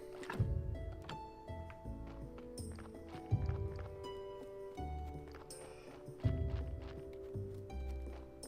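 Donkey hooves in Graveyard Keeper clop in a steady walking rhythm, with soft thuds and plucked game music underneath and a few brighter chimes over the top.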